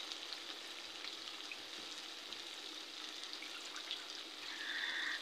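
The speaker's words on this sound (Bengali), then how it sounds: "এই যে আমার মশলাগুলো কষানো হয়ে গেছে।" Spices sautéing in a pan for chicken curry, a faint continuous sizzle and crackle, rising slightly at the end, with no voices.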